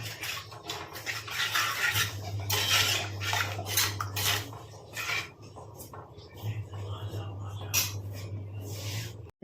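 A metal spoon scrapes and clinks against a pot of sardine curry in uneven strokes, with a steady low hum and a voice talking over it.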